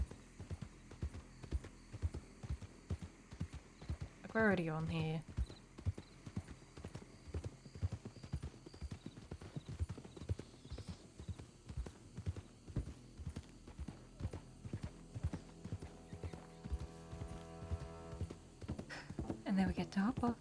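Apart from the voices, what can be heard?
horse hooves clip-clopping while riding, video game WildRP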